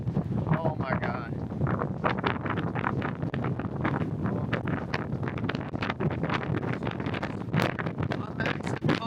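Strong wind buffets the microphone on a cruise ship deck at sea, a steady loud roar with gusty rumble filling the whole stretch, while a person talks excitedly over it.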